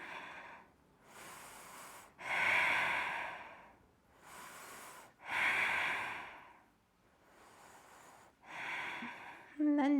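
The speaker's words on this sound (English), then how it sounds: "And breathing." Slow, deep breathing during a gentle yoga session: about four drawn-out inhales and exhales, close to the mic, with quiet gaps between them and a short tonal blip at the very end.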